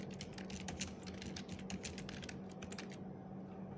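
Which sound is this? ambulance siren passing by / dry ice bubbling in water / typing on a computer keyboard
typing on a computer keyboard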